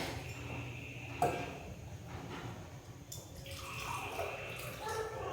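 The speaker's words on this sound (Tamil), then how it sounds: "வெல்லம் கரையிற அளவுக்கு தண்ணி விட்டுனா போதும்" Water is poured onto jaggery to dissolve it for a sweet dumpling dish, a steady soft trickling pour with light clinks of the vessel, close by, continuing throughout with no talk.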